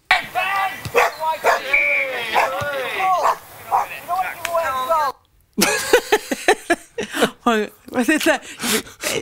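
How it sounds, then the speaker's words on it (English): A dog runs loose onto a football pitch among the players, barking and yelping repeatedly in short, close bursts with a brief pause midway. "a dog running on disrupting players"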